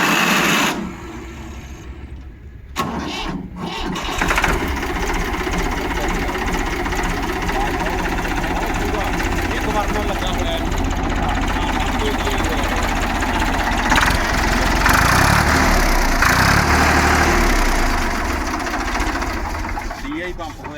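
A tractor engine kicks into life and settles into a steady, rattling diesel idle that runs on while people talk over it.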